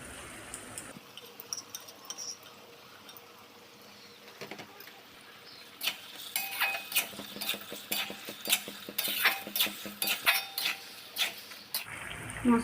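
Marinated spice paste stirred and sautéed in a pot for a Murgh Mussalam chicken dish: after a quiet start, repeated close scraping and clinking of a spoon against the pot, with bursts of rhythmic stirring and faint sizzle, no talking.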